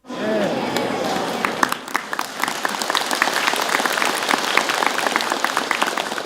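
Audience clapping in a large gathering, starting with a voice speaking briefly before a dense, steady rush of many hands that keeps going loud and even to the end.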